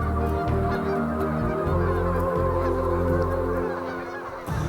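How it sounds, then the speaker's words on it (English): Geese mixed with cranes call together at a wildlife refuge wintering ground, a loud, dense cacophony of overlapping honks and calls that continues without a break, fading slightly near the end, with no talking. "The cacophony of calls from geese mixed with cranes"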